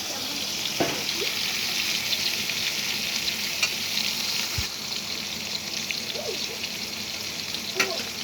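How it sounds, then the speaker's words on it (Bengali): Eggplant frying in a pan, releasing water as it cooks, giving off a dense, steady hiss and crackle up close, continuous throughout with a few faint clinks. "আমি তো বেগুনটা দিয়ে দিয়েছি, দেখুন কীরকম জল বেরিয়েছে।"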